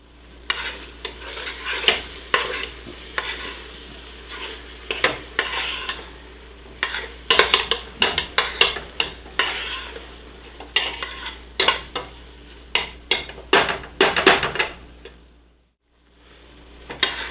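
Onions cooking down in a pan for French onion soup, stirred repeatedly with a utensil scraping the pan over a steady sizzle and frying crackle, close and fairly loud, ending in a brief quiet pause.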